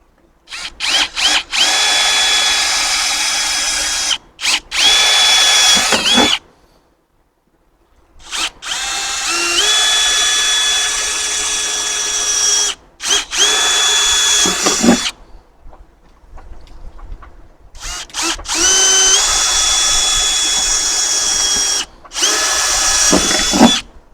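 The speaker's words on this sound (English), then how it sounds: "pilot holes are drilled" A power drill bores pilot holes into a truck tailgate for a Westin tailgate ladder, running in several loud, sustained bursts of a few seconds each with whining pitch shifts and short pauses between them, with no talk.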